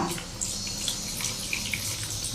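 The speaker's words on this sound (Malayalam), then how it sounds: "കുറച്ച് കരിക്കും വെള്ളം ഒഴിച്ച് കൊടുക്കാം" Tender coconut water pours steadily into a pan of cooking chicken, a continuous splashing trickle heard up close with no talking.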